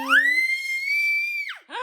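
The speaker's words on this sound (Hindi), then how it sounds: "कितना तेज चिल्ला रही है लड़की।" A girl at home lets out a loud, piercing scream held at a steady high pitch for over a second, then breaks off and starts a second shorter cry.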